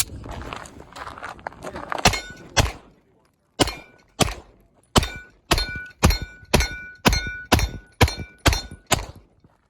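A Staccato P handgun fitted with a Parker Mountain compensator fires about a dozen sharp, punchy shots outdoors on a range, first a few spaced shots, then a quick, even string.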